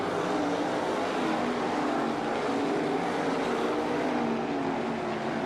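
305 sprint cars race at Attica Raceway Park, a dense, continuous engine roar from a pack of cars at steady loudness, heard without speech.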